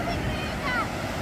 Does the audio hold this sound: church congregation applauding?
no